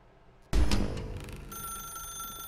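A telephone rings loudly in The Stanley Parable, starting abruptly with a bright bell-like clang and then settling into a sustained ringing tone with a steady high pitch, close and alone.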